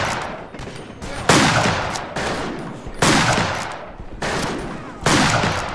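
Five loud gunshots from the Western shooter game Fistful of Frags boom out at an uneven pace, each with a long rumbling tail that rings on until the next shot.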